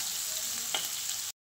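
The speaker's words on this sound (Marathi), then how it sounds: "तेलामध्ये मोहरी टाकते, जिरे, लसूण, कांदा चांगलं भाजून घेते आता" Mustard seeds, cumin, garlic and onion frying in hot oil, giving a steady close sizzle and crackle with a few small pops that stops abruptly, with no voices.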